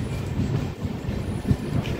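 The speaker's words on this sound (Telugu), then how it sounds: "ఖమ్మం స్టేషన్ నుండి అయితే మన ట్రైన్ అయితే బయలుదేరిపోయింది" Train pulling out of Khammam station, a steady low rumble of rolling wheels with a brief louder surge near the middle, heard from onboard.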